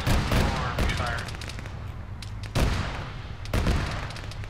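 Gunfire from a military operation game rips out in several sharp, loud bursts spaced a second or two apart, each one a rapid rattle that fades into a lingering echo.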